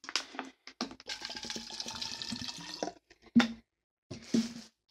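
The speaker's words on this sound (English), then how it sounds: "now I'm gonna fill it up with water and see if it's leak proof." Water splashes and pours into a BPA-free motivational water bottle in uneven bursts, with short pauses and sharper splashes near the end, up close and fairly quiet.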